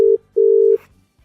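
Telephone ringback tone while placing a business call, two steady low electronic tones close up, one short and one longer with a brief gap, followed by quiet line noise.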